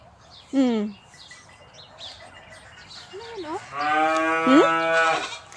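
A bull lows in a farm park in Unaizah, Saudi Arabia, a short call then a long, loud drawn-out moo, with faint birds chirping in the background.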